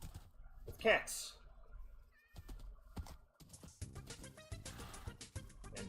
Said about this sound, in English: With cats.